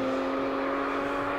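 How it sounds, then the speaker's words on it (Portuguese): Porsche 911 sports car engine, mid-mounted, accelerating hard, a sustained loud steady engine drone close by with no talk over it. "ele tá acelerando pesado"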